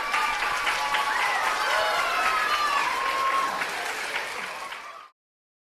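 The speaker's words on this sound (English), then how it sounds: "Didn't he do very well? Give him a clap." Infant school children clap together for a teacher after a quiz, a dense, steady burst of applause with some crowd murmur that fades out near the end, leaving silence.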